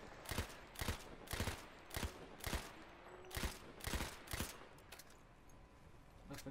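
Gunfire in Battlefield 1 rings out as a rapid rhythmic burst of about a dozen sharp shots at a steady pace, loud and close over a constant background hum.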